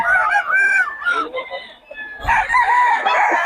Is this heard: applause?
no